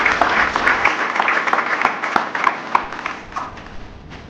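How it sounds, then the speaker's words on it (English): Applause from an audience at a football partnership launch event in India, many hands clapping steadily and densely throughout, with scattered sharper claps standing out, no voices over it. "Kindly give her a big round of applause."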